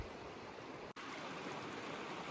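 Steady, close rushing of the Miette River where a trail fords it in Jasper National Park, a continuous broadband water roar with one momentary dropout near the start and no voices.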